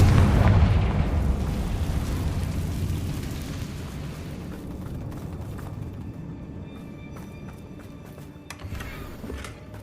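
A Confringo fire spell from Hogwarts Legacy goes off as a loud low boom at the start, then rumbles and fades over several seconds while scattered crackles and debris sounds trail on, with no talking.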